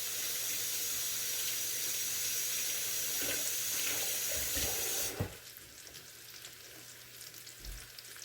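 Kitchen tap water runs steadily into a sink as biscuit dough is rinsed off hands, a close, even rush that cuts off abruptly about two-thirds through, leaving quieter room noise.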